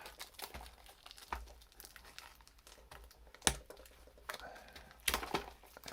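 Scissors snipping open a foil Pokemon card pack, with crinkling wrapper sounds and a few sharp cuts and clicks, close and fairly quiet.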